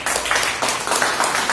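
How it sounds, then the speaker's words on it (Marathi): A crowd claps steadily and fairly loudly for a poetry reading, with dense, continuous applause and no voices over it. "टाळ्या होऊ द्या जोऱ्याने."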